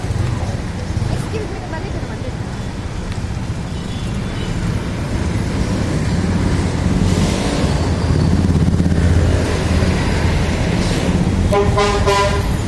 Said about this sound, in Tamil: ஒரு நிமிடம் இந்த சாலையை பார்த்தால் உங்களுக்கு தெரியும் எத்தனை விதமான டூ வீலர்கள் ஆட்டோக்கள் பிறகு பேருந்துகள்